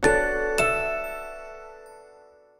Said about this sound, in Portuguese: você me dá notificação, mas não deixa eu clicar nela